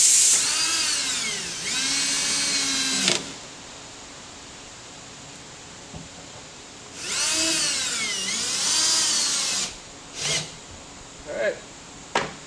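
Power drill driving screws into a wall stud: two long whirring bursts, each several seconds, with pitch rising and dropping under load, followed by short quick trigger blips; quiet gaps between, up close.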